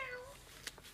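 A 15-month-old toddler imitates a cat's meow, one short faint high-pitched cry after an adult's voice, heard close in a quiet room.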